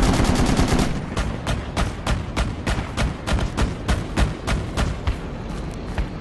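Heavy machine gun fire in the military shooter Project Reality, loud rapid bursts of evenly spaced shots repeating without pause, close and sharp, with no talking.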